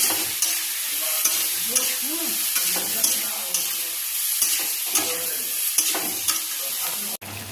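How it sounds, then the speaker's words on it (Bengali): Spiced food in a frying pan, just salted and seasoned with cumin powder, sizzles while a spatula stirs and scrapes in repeated strokes, close and steady, with a sharp clink near the end. "আন্দাজ মতো লবণ দিয়ে নাড়াচাড়া করে নেব"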